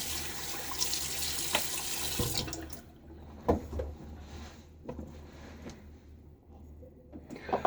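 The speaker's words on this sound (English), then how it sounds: "I'm going to splash some water." Water gushes from a faucet for a couple of seconds, then shuts off, leaving quiet handling noises and small knocks nearby.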